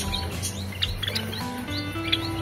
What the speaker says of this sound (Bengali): এগুলো হচ্ছে হোয়াইট জাভা।